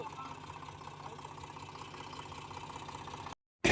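A tractor engine idling steadily at a low rumble while the tractor sits stuck in a river at night, continuous and fairly faint, cutting off abruptly near the end.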